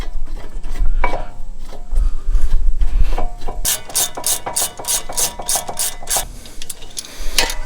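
A bolt on a GMC Yukon brake bracket is tightened with a ratchet, producing a loud, close run of rapid metallic clicks amid clanking and handling of tools.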